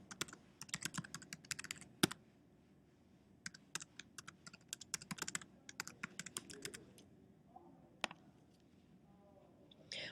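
Rapid clicks of a computer keyboard as an Apple ID and password are typed in, bursts of keystrokes separated by short pauses, close and fairly quiet with no talking.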